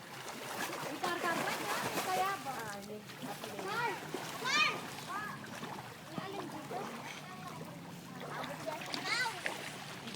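Water splashes and sloshes in a swimming pool, moderately close. Children and adults talk and call out over it almost throughout.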